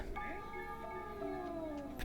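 A cat in the horror game DreadOut 2 lets out a quiet, drawn-out, wavering meow that slides downward in pitch over a faint background hum.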